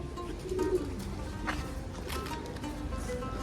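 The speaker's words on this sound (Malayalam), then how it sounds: "വ്യത്യസ്ത ഇനം പ്രാവുകളാണ് കേട്ടോ" Soft coos from various pigeon breeds at a zoo in Alexandria rise over a low background murmur, a few brief calls near the start and middle.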